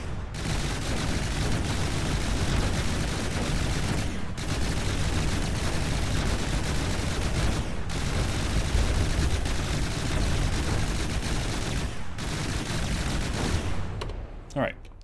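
Dual 60mm miniguns in the game From The Depths fire in long sustained bursts, a loud dense roar broken by brief pauses roughly every four seconds.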